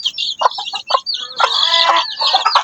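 A hen clucks close by in a run of short calls that rise into a longer drawn-out squawk, with no talking.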